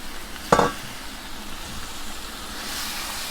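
Long squash and potatoes sauté with chicken curry in a pan, one brief clatter of something dropping in, then a low, faint steady sizzle carrying on alone.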